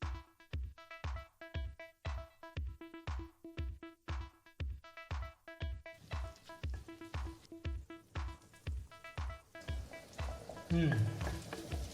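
Garlic frying in butter in a hot pan: steady rhythmic sizzling and stirring, regular scraping pulses over a continuous frying hiss that grows busier toward the end.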